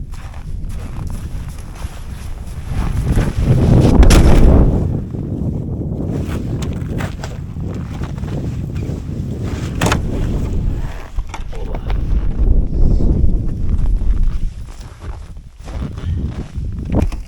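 Broad, continuous rushing noise swells and fades over a long stretch. It sounds like strong gusting wind buffeting outdoors on a frozen lake during ice fishing, with a few faint knocks, and nobody speaks.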